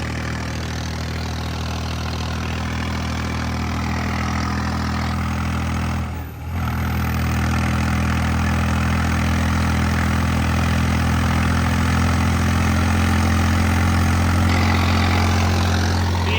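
A Holland tractor hauling a loaded sugarcane trolley runs with a loud, steady low engine drone, close and continuous, with one brief dip partway through and no talking.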